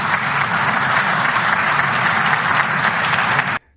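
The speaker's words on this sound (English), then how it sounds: "Not that big of an applause" A crowd applauds after a political speech in a hall, a steady, moderate wash of clapping that stops abruptly.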